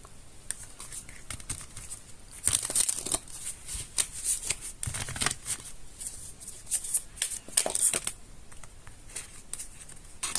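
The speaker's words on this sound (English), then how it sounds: "Okay, I feel like one more shuffle." Tarot cards are shuffled in several quick bursts of crisp riffling and soft patter, close by, with brief quiet pauses between.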